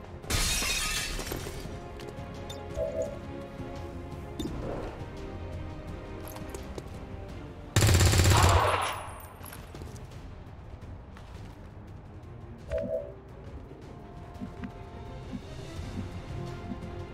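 Gunfire in a video game sounds as a few sharp, loud bursts spaced several seconds apart over a low, busy background.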